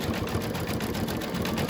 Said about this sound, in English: I'm going to be stitching over all that fleece.